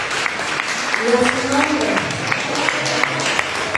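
A church congregation breaks into applause during a Spanish-language sermon, clapping steadily at moderate distance while a voice speaks over it.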